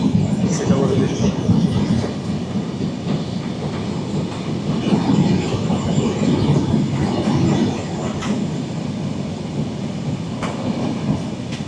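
Sundarban Express passenger train rolling steadily past Srinagar station on the Dhaka–Faridpur route, a continuous loud low rumble with faint rail clatter throughout.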